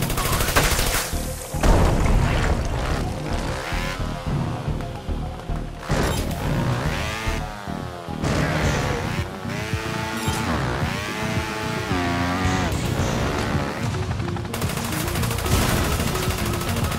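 Video game gunfire from Trials of the Blood Dragon plays as dense, continuous automatic bursts and booms, loud and unbroken, mixed with rumbling game effects and a voice speaking over the action.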